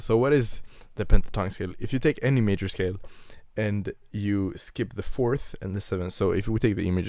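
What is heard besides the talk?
No everyday noise stands out behind the speech.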